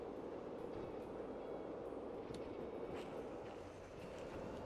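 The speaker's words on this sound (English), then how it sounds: "And now we have a derailed runaway train." A derailed runaway train in the video game Derail Valley, a continuous rumbling rattle of rolling stock with faint metallic clicks, steady and fairly close throughout.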